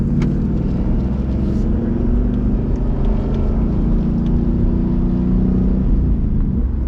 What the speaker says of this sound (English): I see that car coming down the front straight.